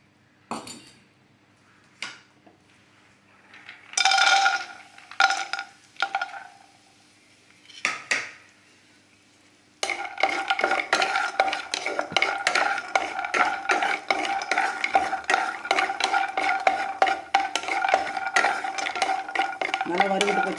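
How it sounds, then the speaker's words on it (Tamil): Almonds roast in a little ghee in a pan, with a few scattered scrapes and clinks at first, then a steady run of rapid stirring and scraping against the metal with a faint sizzle underneath. "கொஞ்சமாக நெய் ஊற்றி பாதாம் வறுத்ததுக்கலாம்."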